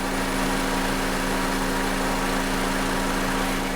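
A Honda Civic engine idles with a constant, steady hum and faint whine, heard close with no voices, while the car's AC system is being recharged.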